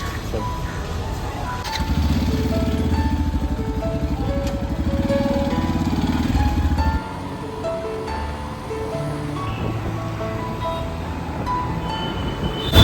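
A motorbike engine runs steadily, with a louder rumbling stretch early on, then a lower drone as the ride continues.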